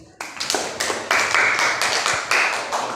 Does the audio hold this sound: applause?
yes